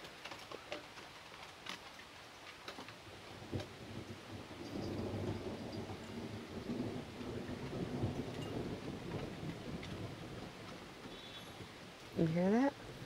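Low rumbling thunder rolls over steady rain, with a few sharp ticks and a brief rising squeal near the end.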